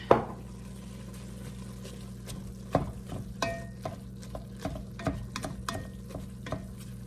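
Ground beef browning in a pan with garlic, heard close as a low hiss under repeated spatula scrapes and knocks against the pan, irregular and fairly loud, with no one speaking.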